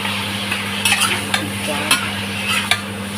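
Pork belly stirred in a pan as brown sugar goes in, with a utensil scraping and clicking in irregular bursts over a faint sizzle and a steady background hum.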